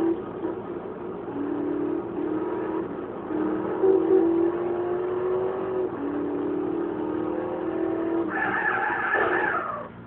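Fast car driven in the video game GTA San Andreas, a steady engine roar with shifting revs and skid-like tire tones throughout, loud and continuous with no talk.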